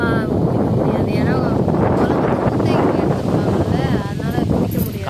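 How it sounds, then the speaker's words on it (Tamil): Strong wind buffets the microphone in a steady broadband roar while out on the water during a fishing trip, with people talking faintly underneath. "காத்து செம்மையா அடிக்குது"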